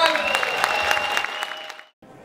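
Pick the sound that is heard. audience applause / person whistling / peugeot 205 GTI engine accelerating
audience applause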